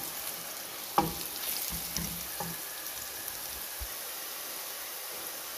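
Golden onions frying with turmeric powder for dhaba-style daal mash, a faint steady sizzle with a few soft scrapes of the spoon early on, quiet and close with no talk.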